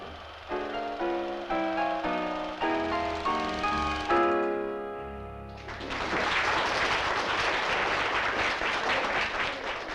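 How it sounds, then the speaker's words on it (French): Sustained applause from a crowd breaks out after a few seconds of piano chords and fills the rest of the stretch, dense and steady at moderate loudness. "on a applaudi"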